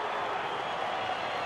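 Rugby league crowd in a 1995 Brisbane versus Illawarra match cheering a try, a dense continuous roar of cheering and applause at even loudness.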